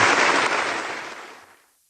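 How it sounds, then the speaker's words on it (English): Standing ovation inside a large hall after a political speech, a dense roar of many clapping hands, loudest at the start and gradually fading away to quiet, with no voices above it. "that was a standing O, and the applause went on for a long time and became cheers"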